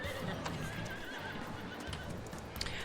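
A horse in the video game Farming Simulator 22 neighs, with soft hoof clip-clops over a steady, faint background bed.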